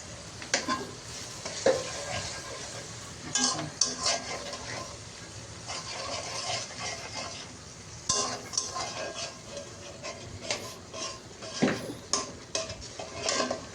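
Potatoes fry in a pan with spices while a utensil scrapes and knocks against the metal in uneven bursts over a soft sizzle, with no one speaking.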